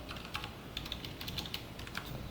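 Quiet computer keyboard typing while Python code is entered, irregular light key taps over a low background hum, close and soft, no one speaking.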